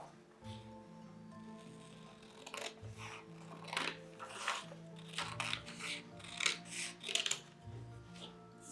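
Scissors snipping through paper to cut out the top row of Rosary mystery pictures for a children's Rosary book craft, a run of crisp close cuts and paper rustles growing busier toward the end.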